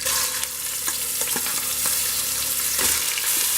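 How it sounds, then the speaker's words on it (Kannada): Rice sizzles steadily as it fries in ghee with a cumin tempering for jeera rice, a close, continuous crackle with occasional stir scrapes and no voices. "ಈ ಅಕ್ಕಿನ ಒಗ್ಗರಣೆಯಲ್ಲಿ ಒಂದು ಅರ್ಧ ನಿಮಿಷ ಫ್ರೈ ಮಾಡ್ಕೊಳ್ಳೋಣ."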